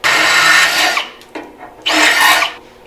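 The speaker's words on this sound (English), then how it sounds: "I drill all those holes out to get it to fit" A drill bores out holes so an aftermarket fuel pump fits on a Toyota FJ45 rock crawler, heard as two loud sustained grinding passes separated by a brief pause and a short knock, close by.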